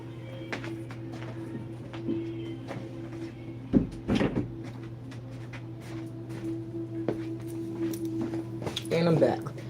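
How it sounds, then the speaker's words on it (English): A door is pulled shut in a home, a brief close thump with a small rattle near the middle, followed later by soft handling noises, over a steady low hum with no talking. "I got to close the door because my son is loud again"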